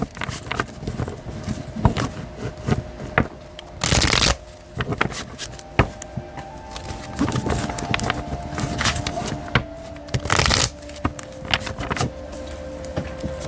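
A tarot deck is shuffled by hand in repeated papery riffles and rustles. Several louder, fuller bursts of riffling stand out among the quieter card handling, with no speech.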